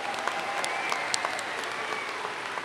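Graduation commencement audience applauding steadily, a dense wash of clapping with a few sharper individual claps poking out, moderately distant throughout.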